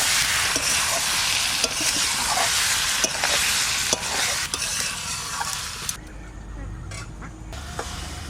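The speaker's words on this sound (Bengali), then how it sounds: "মাংস মশলা একসঙ্গে ভালো করে কষা নেব" Duck meat and spices are sautéed in a pan for a duck curry with ash gourd, giving a steady close sizzle with scattered stirring scrapes. The frying noise drops in level near the end but keeps going, with no talk.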